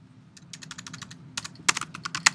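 Computer keyboard typing in bursts of rapid clicks, a quiet stretch then louder, denser keystrokes near the end, close and alone over a low steady hum.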